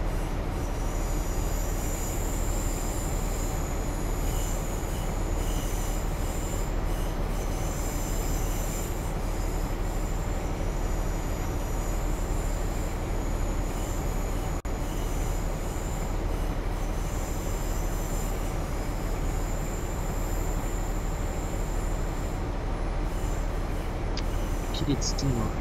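Electric passenger train in Train Simulator 2017 on a London to Peterborough run, a steady rumbling drone of wheels and traction noise with occasional squealing, continuous throughout, with a voice talking over it at times.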